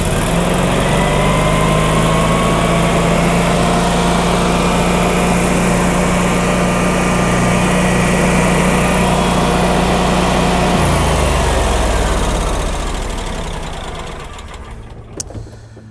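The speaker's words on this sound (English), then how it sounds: "Propane generator, everything works. Fires right up, no problem." A Generac 22-kilowatt propane standby generator drones loudly and steadily at close range, its engine hum shifting pitch partway through before the sound fades away near the end.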